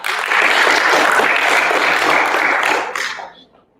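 Sixth-grade students at a school awards assembly clap together in a full, dense burst of applause that holds steady for about three seconds before quickly dying away.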